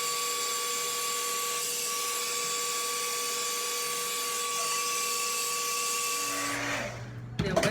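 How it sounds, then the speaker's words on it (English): Blow dryer with a nozzle attachment drying natural hair, a steady loud whooshing roar with a high whine running unbroken for several seconds before the motor cuts off near the end. "Then I take my blow dryer. I do use the nozzle, and I like to blow it down this way."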